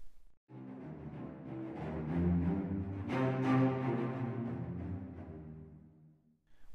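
A string ensemble from the Spitfire Audio Mural Symphonic Strings library plays broad sustained chords through the furthest-back ambient microphones, sounding distant and roomy, with a soft wash of reverb around the swelling phrases.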